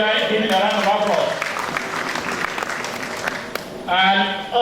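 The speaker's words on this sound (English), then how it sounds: "We have former Minister Dr. E.D. Hong. Can we give him a round of applause?" A ceremony audience applauds a former minister, a dense wash of clapping filling the middle of the clip between stretches of amplified speech at the start and end.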